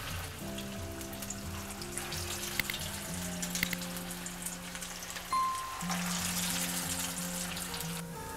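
Broccoli tikki fry in hot oil over medium heat, a steady close crackling sizzle with scattered pops, faint clinks and a soft background tone, no talk.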